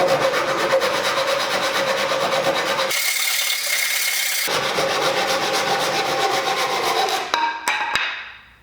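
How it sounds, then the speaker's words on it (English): A handsaw cuts through scrap wood on a workbench with steady, rasping back-and-forth strokes heard up close, pausing briefly midway before the sawing resumes. "It's a handsaw, it takes a while."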